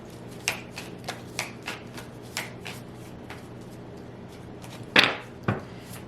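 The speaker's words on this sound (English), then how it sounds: "I'm just going to shuffle this one more time" Tarot cards being shuffled by hand: a string of soft, quick riffling swishes at irregular intervals, close and fairly quiet, with one louder, fuller shuffle near the end and no talking.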